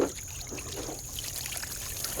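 Water pours and trickles to rinse gunk off a table during a shotgun ballistics test, a faint steady splashing stream close by.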